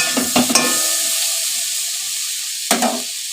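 Potato vegetable curry (chorchori) bubbles and sizzles in a pan, a steady close hiss broken by a few louder splashing bursts near the start and end.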